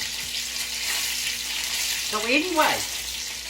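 Dough made with white self-rising flour frying in a pan, a steady close sizzle with a brief voice speaking over it near the end.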